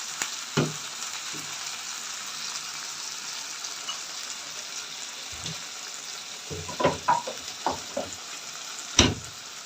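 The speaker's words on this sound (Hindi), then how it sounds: "अब मैं इनको अच्छी तरह फ्राई कर, बढ़िया प्याज से चमचा चलाना चाहिए।" Keema bhindi, minced meat with okra, sizzles steadily in a pan while a spoon stirs it, with scraping and clinking strokes mostly in the second half and a sharp clack near the end.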